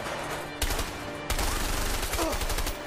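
Bursts of gunfire from the video game A Way Out, two or three loud volleys of rapid shots with a steady background hum between them and no talking.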